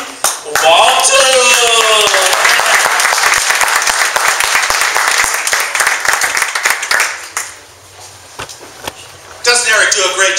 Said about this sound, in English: Why don't we all give a hand clap to Lynn Walter?